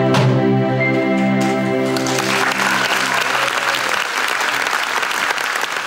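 Music fades out at a theatre performance by the Nalaga'at deaf-blind ensemble, then a dense, sustained wash of audience applause rises and fills the room, loud and steady to the end.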